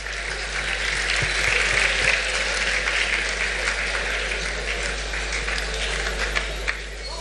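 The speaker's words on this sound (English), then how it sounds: "Let's give them an applause." A hall audience applauds the judges at an English song festival, sustained, even clapping from a large crowd that stays loud and steady throughout with no break.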